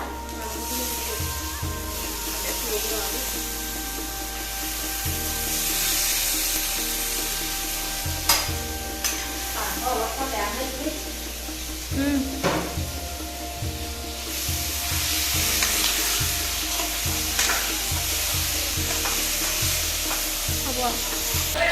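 Onions sizzling and frying in a pan, with stirring and scraping heard throughout and a steady broadband hiss underneath; no one speaks.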